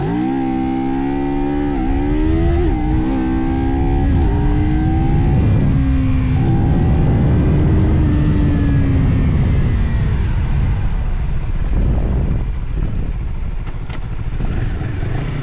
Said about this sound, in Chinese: 所以说现在我们加个速，试一下这个弹射起步啊。